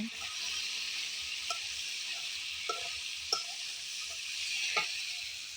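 Fish sizzles as it fries in a pan with potatoes, a soft continuous hiss broken by a few faint pops and clinks of a utensil.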